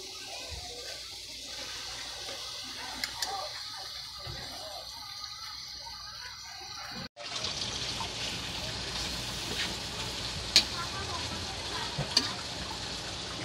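Tomatoes hit a pan of sautéing sayote and are stirred, a steady hissing sizzle that jumps louder midway as they drop in, with occasional scrapes and clinks of the utensil, close by.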